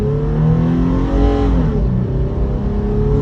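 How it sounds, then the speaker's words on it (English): A 2022 Toyota 4Runner 4x4 accelerates off the line, its engine note rising steadily and loud at close range, then dipping slightly as it shifts before pulling again. "Should be a great opportunity to see how this car can accelerate off the line"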